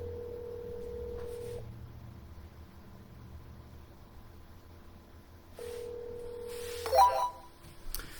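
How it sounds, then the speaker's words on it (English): An outgoing telephone call ringing back, two long electronic rings separated by a pause, faint and close on a quiet line, with a short click and noise at the end. "Come on now, answer the phone."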